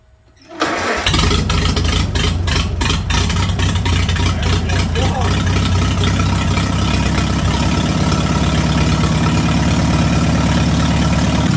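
A Farmall tractor engine cranks and catches after a brief quiet start, then settles into a loud, steady running rumble close by that continues to the end.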